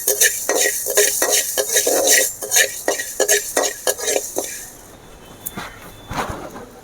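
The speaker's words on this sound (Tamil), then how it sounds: "சட்டி சூடாச்சு இப்போ நம்ம இந்த வெந்தயத்தை கடுகையும் வறுத்துக்கலாம் முதல்ல" Fenugreek seeds being stirred in a hot pan, a spoon scraping and rattling in rapid repeated strokes over a faint sizzle, then settling into quieter frying hiss near the end.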